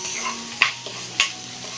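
Green peppercorns with salt sauté in a pan, giving a soft, quiet sizzle with a few sharp clinks and scrapes from a stirring spoon. No one speaks.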